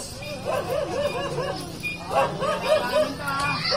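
Several stray dogs in a village street bark and yip in overlapping bursts, some whimpering, with people talking and a crowd murmuring around them.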